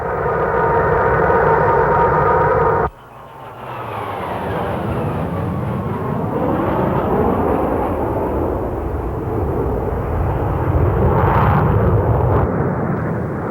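Soviet-built Sukhoi Su-22 attack jet flying past: a steady, loud jet roar with a sweeping, shifting pitch that breaks abruptly early on, then continues filling the whole stretch.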